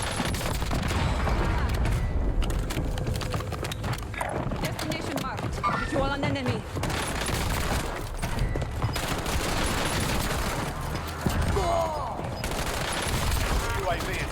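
Dense gunfire from the Warzone video game, near-constant bursts and automatic volleys with a few heavier booms, loud throughout with game voices talking over it.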